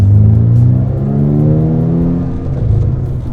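Rossion Q1 exotic car with turbos, engine revving in a loud, close rumbling note that climbs and holds, then eases slightly, with no talk over it.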